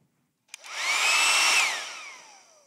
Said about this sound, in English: This is just an ordinary hairdryer that I have.